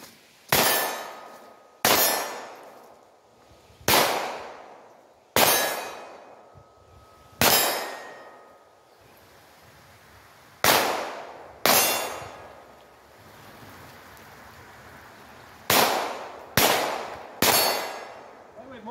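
Ruger Mark IV pistol shots ring out one by one, each sharp crack followed by a ringing clang off steel targets, about twelve hits in uneven groups with pauses between.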